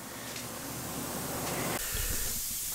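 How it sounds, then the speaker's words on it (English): Steady broadband hiss of a spray gun coating a wheel black inside a Columbia Coatings Kool Koat powder coating booth, continuous and close, with a slight shift in tone partway through. "I gotta prep this wheel and start getting that sprayed in black."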